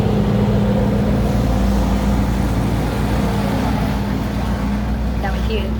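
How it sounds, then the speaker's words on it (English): A heavy truck engine rumbles loudly and steadily nearby, a deep droning roar that holds for several seconds as the truck drives past. "That truck was super loud as it drove by, so Ernie's like, oh my gosh."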